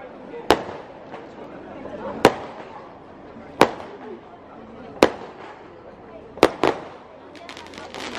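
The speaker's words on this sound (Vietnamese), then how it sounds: "Không hiểu tại sao đây lại có pháo hoa nè." Fireworks bursting at a lantern festival, six or so sharp cracks spaced a second or two apart at moderate distance, with a crowd murmuring underneath.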